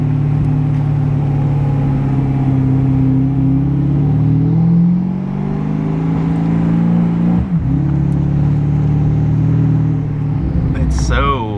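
A Porsche Panamera Turbo fitted with an X-pipe exhaust hums with a deep, smooth drone that swells as it revs, steady and close, heard from inside the car while people talk over it.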